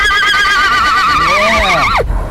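A horse gives a loud, close, wavering whinny lasting about two seconds that falls away sharply at the end, with faint hoof sounds beneath.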